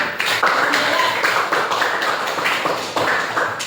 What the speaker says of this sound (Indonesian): Tepuk tangan semua buat.